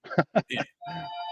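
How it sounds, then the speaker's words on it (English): A house telephone rings in the background with a steady electronic tone, heard right after a short burst of someone talking. "sorry for the phone keeps ringing in the background"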